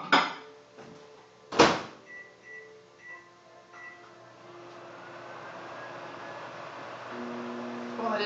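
A microwave oven cooking a blueberry cobbler in a mug, with a few door clicks and beeps at first, then a steady low hum running alone.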